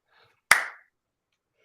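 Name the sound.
slow clap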